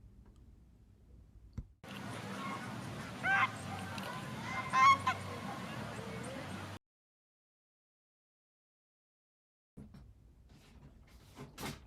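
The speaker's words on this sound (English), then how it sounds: "I hope you enjoy some roosting birds." Roosting birds, likely geese or similar fowl, honk and call in a dense chorus for about five seconds, fairly loud and close, with louder individual cries rising above the steady flock noise before it cuts off.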